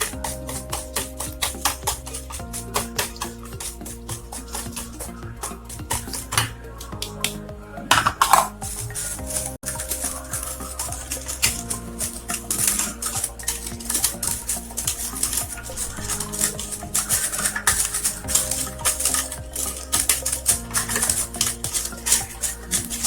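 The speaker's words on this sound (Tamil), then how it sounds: "தேங்காய் பாலில் கலந்துற அளவுக்கு நல்லா இந்த மாதிரி ஒரு பீட் பண்ணிக்கோங்க" Powdered sugar being beaten into coconut milk for vattalappam egg pudding: steady, rapid whisking and clinking against the bowl that runs throughout, close by, under continuous background music.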